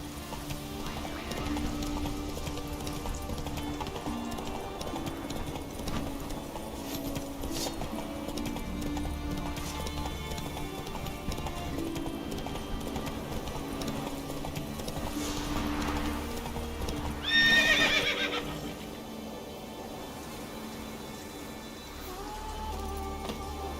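Horse hooves gallop in a steady clip-clop rhythm in the video game The Witcher 3, continuous and mid-distance over a soft ambient bed, with a brief neigh near the end.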